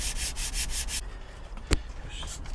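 180-grit sandpaper rubs in quick, rasping back-and-forth strokes during a VW PD cylinder head rebuild, loud and close for the first second, then softer scraping and one sharp tap.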